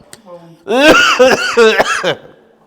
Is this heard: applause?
no